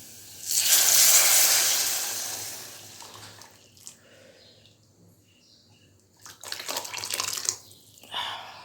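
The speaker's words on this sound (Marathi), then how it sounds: "आता आपण त्याच्यामध्ये आपले हे येळवणी ओतून घेणार आहे." Liquid pours steadily and loudly into a pan of fried spice mix for about two seconds. After a quieter stretch, a second burst of splashing and sizzling follows near the end.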